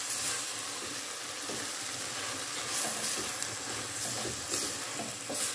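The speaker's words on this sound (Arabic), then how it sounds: "نحركها مزيان" Noodles with vegetables being stirred in a hot pan, a steady sizzling hiss with soft scraping and clatter of the utensil rising and falling throughout, close and continuous with no talk.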